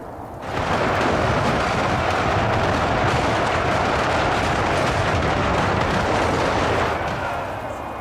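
Massed stationary artillery in UEBS 2 fires almost nonstop, a loud, dense, rumbling barrage that swells in after a brief lull and holds steady throughout.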